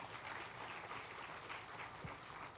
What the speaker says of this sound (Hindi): तो इस संस्था के लिए भी जोरदार तालियां